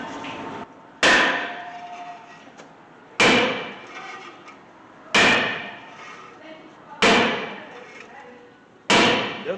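Loud metallic hammer blows strike a brake rotor on a 2013 Hyundai Santa Fe at regular intervals, five heavy clanging hits, each ringing briefly before fading.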